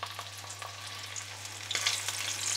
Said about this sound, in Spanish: Ponemos una sartén grande con abundante aceite a calentar y cuando ya está caliente vamos a freír